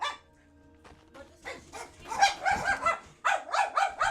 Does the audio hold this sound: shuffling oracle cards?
no